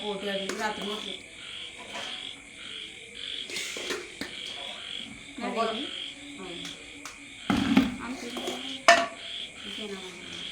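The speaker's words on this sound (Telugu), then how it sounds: "ఆ కప్పలు చూడు ఎలా చేస్తున్నాయో మరి" Frogs croak at night near an outdoor family dinner, with a steady rhythmic chorus and insect trills throughout and a few louder clatters.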